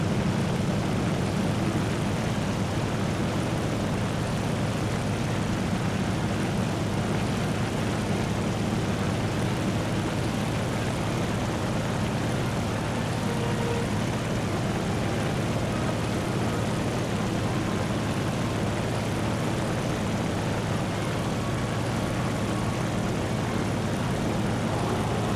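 A propeller aircraft engine drones steadily through a carrier landing approach in War Thunder, a constant loud hum with no pauses for the whole stretch.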